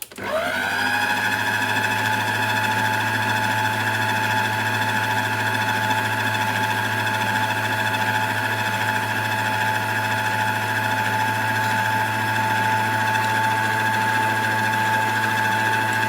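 An electric mixer beating brownie batter on its lowest speed starts up and then runs with a loud, steady motor whir and hum, unbroken for the whole stretch.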